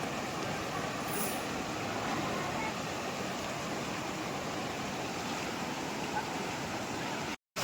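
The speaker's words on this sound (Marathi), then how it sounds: "ही आमच्या गावाच्या साईडची नदी आहे" A village river flows in a steady, broad rush of water that holds an even, continuous wash from start to finish and cuts off abruptly at the end.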